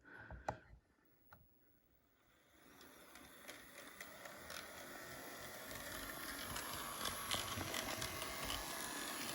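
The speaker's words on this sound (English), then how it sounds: "I ended up getting a new motor for it, and it took me an hour to solder the wires into the motor, and then the loco was running fine." A model BNSF SC-78 locomotive fitted with a new motor runs with a faint, thin mechanical whir that starts soft and builds into a steady buzzing hum, with a few light ticks at the start.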